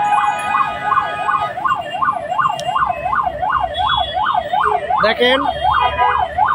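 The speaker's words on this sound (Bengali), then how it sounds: "বাংলাদেশে একটা অ্যাম্বুলেন্সকে দেখেন" An ambulance stuck in a Dhaka traffic jam wails with a loud, close siren cycling up and down in a regular rhythm, over engine and street noise, briefly changing pitch near the end, while someone speaks a word.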